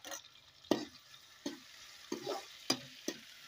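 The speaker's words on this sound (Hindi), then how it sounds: "इस तरह से हम प्याज और मिर्चे को लाल करते रहेंगे।" Onions and hot chillies fry in a pan with a faint, quiet sizzle, marked by five sharp stirring scrapes, each trailing off into a brief crackle.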